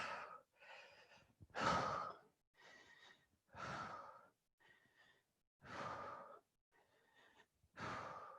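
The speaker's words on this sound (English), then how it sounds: "So go big exhale, reach high." Heavy breathing during a workout, a series of about eight loud, airy exhales and inhales alternating in a steady rhythm, close and alone.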